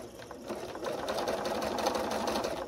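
A sewing machine stitches through quilting fabric with the presser foot down, a steady continuous motor whir with rapid needle clatter that starts softly and then runs loud and even, close to the mic.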